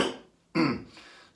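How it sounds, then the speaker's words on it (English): A man gives two short, rough coughs close by, the second louder and fuller, then a faint breathy trail. "Bit of a cough."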